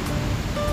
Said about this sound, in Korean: 와, 용추 폭포 물소리